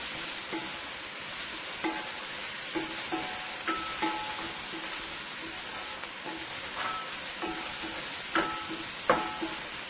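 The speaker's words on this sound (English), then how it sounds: "you're going to let this saute it into the oil for about 2 minutes" Beef soup ingredients sauté in oil in a pot for a Caribbean dish, giving a steady sizzle throughout with occasional clinks and taps of tossing and stirring; no talking.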